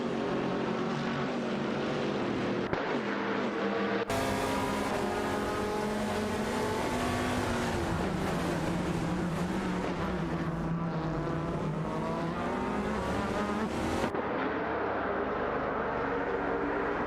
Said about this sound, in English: between Bot Sakurai TV and Bot Yaboro Wanda, with both cars closely matched as they jostle for position.